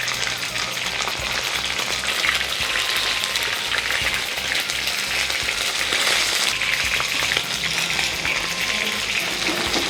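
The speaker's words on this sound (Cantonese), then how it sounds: "中火就慢慢煎炸佢，炸到佢熟先" Pork bones deep-fry in oil over medium heat, giving a steady, dense sizzle and crackle that holds even and fairly loud throughout with no voices.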